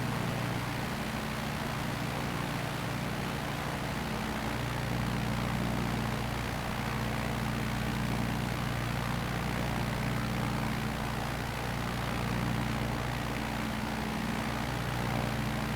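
A Tanarg 912 trike ultralight in a flight simulator held at full throttle, its engine and propeller giving a steady, unbroken drone with a low rumbling hum that does not change over the whole stretch.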